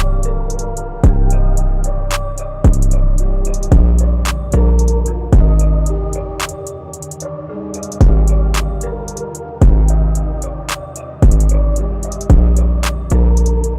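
An ambient sample loop built in FL Studio with a simple drum pattern: sustained, hazy tones under a regular kick and sharp hat hits, repeating evenly and loudly with no voices.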